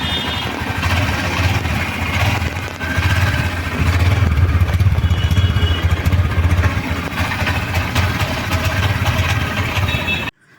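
A Honda Shine 125 motorcycle engine idles steadily through its small exhaust, a continuous low, throbbing rumble with faint mechanical clatter, close and fairly loud for about ten seconds before cutting off abruptly at the end.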